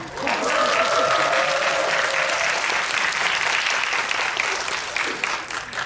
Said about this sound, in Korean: 여러분 박수 감사합니다